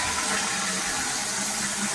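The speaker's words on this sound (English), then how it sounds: "And I can flush the toilets" A household toilet flushing after a water-tank install, a steady rushing of water filling the whole stretch at moderate level with no talk over it.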